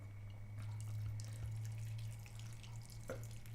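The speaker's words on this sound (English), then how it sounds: "pour water through the greenhouse, which I'm going to do now" Water trickles and splashes as it is poured through a mini sprouting greenhouse holding chickpeas, a soft continuous flow over a steady low hum, quiet and close.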